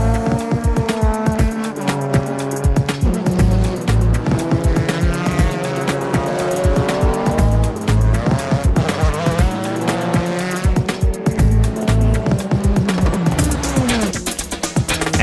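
JGTC race cars slide through corners with tires squealing loudly over roaring, revving engines, several cars passing close in an unbroken stretch of racing noise.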